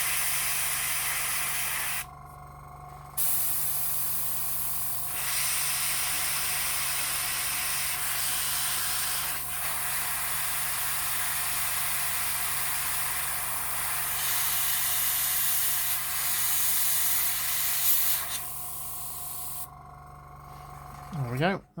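A cheap airbrush compressor runs with a steady hiss of spraying paint and a constant mechanical hum, the spray cutting out briefly twice, with a voice talking over it.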